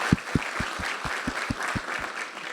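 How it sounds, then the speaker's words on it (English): A modest round of applause at a breakfast business briefing, around ten distinct claps over a dense wash of clapping, moderately loud and close, with no talking. "So if you could give him a round of applause for that, that would be brilliant."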